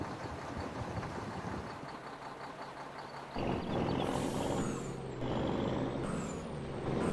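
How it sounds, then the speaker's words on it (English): A truck in Farming Simulator 22 rumbles with a low engine drone, then gives a loud hiss of air brakes and high squealing, with a second brake hiss following. "Listen to this nasty truck."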